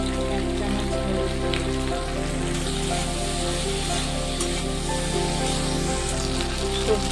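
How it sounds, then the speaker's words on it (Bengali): Vegetables with chopped onion, salt and turmeric fry in a pan with a steady, dense sizzle like rain on a surface, continuous and close under a low hum, no talking. "সবজিগুলো কিছুটা ভাজা হয়ে গেছে"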